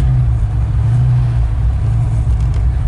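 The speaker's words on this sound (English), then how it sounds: "So you turn the battery on, you hear a clicking back, clutch down, just like a normal Mustang." The engine of a 1994 Bondurant Mustang race car runs loudly and steadily right after starting, a deep, even rumble close by with no other sounds.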